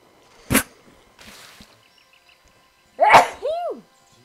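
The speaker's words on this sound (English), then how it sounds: "I tried really hard to hold the sneeze" A person sneezes sharply once, loud and close, followed by a fainter exhale and then a second forceful sneeze-like burst with a trailing vocal sound, during a game stream.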